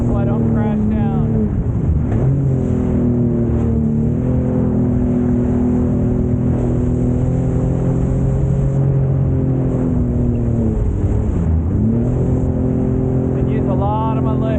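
A boat engine, apparently a jet ski, running steadily over waves with its throttle easing off and back on at intervals, a loud close drone that shifts in pitch, with someone talking over it.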